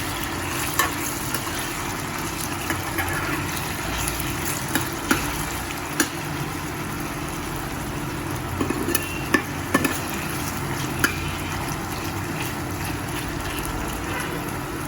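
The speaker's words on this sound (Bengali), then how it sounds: "ছেলের জন্য আলু ভাজাটা করে নিচ্ছি আগে।" Potatoes frying in a pan with whole cumin and green chili, a steady close sizzle running throughout with occasional clicks of a spatula stirring, no voices.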